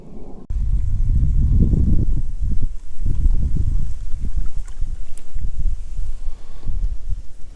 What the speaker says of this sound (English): Now that wind blowing here, trying to blow me into the trees.